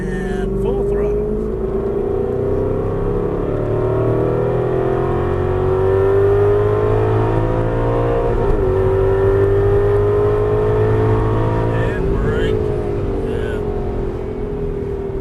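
An Aston Martin V8 Vantage engine at full throttle on a track, a loud steady roar climbing in pitch through the gears from inside the car.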